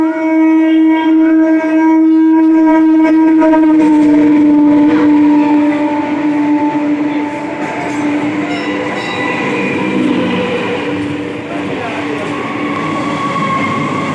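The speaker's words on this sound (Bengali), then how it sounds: "দেখুন, আরেকটি ট্রেন আসছে, থ্রু ট্রেন।" A through train passes Bisharpara Kodalia station without an announcement, its loud sustained horn and heavy rumbling carriages filling the platform, with clattering wheels continuing as the train rolls by close up.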